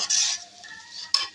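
Spice paste for chicken curry being stirred and fried in a pan with a splash of water, a close scraping sizzle that swells, eases off, then flares with a sharp stir near the end.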